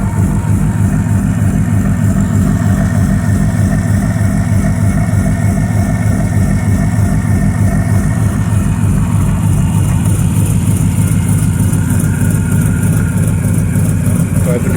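A supercharged BMW-powered T-bucket hot rod warms up at idle, its engine giving a loud, steady, rapidly pulsing low rumble that continues unbroken throughout.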